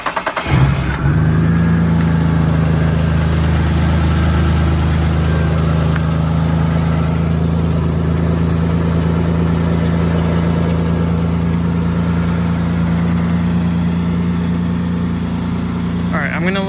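Mitsubishi Eclipse GTS engine fitted with a cold air intake cranks briefly and catches, then settles into a steady, loud, close-range idle with a constant low hum and no talking over it.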